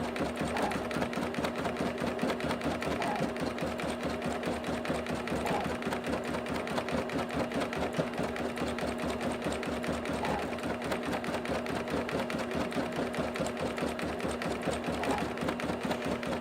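Singer Quantum XL 100 sewing machine stitching an embroidery fill, a steady, continuous rapid needle hum with a faint repeating tick, close and alone throughout.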